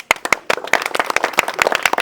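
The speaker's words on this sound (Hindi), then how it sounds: "आप सभी लोग एक बार अपने लिए भाई ताली बजा दो" An audience at a school Tiranga Yatra gathering claps in a quick, uneven burst of many hands, loud and close for about two seconds.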